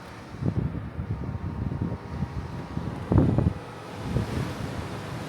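Steady gusting wind on the deck of the cruise ship HAL Rotterdam buffets the microphone, with low rumbling roar and a surge of louder gusts midway; no voices.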